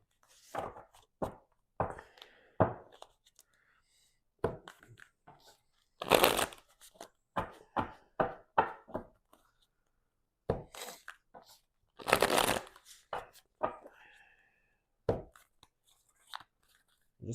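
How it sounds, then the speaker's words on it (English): Tarot cards shuffled by hand in bursts of crisp riffling and soft slaps, close and clear, with quiet pauses between runs and no talking. "I'm just going to shuffle one more time."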